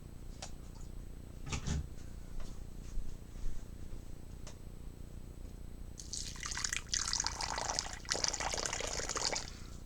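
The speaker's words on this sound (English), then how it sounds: "I forgot to add water to the water bowl." Water poured into a tarantula's water bowl inside a tank: after a few faint drips and taps, a bright splashing trickle starts and runs steadily for several seconds, close and fairly quiet.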